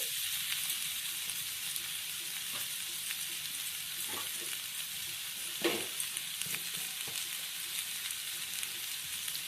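Potato and pumpkin pieces lightly frying in a pan for a vegetarian curry, a soft, constant sizzle broken by scattered scrapes and taps as they are stirred, close by and with no talking.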